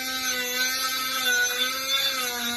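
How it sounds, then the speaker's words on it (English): A Dremel rotary tool grinds a metal washer, giving a steady high-pitched whine with a strong tonal hum that holds throughout, close and loud with no talking. "What I'm going to try to do is use my Dremel, make it bigger."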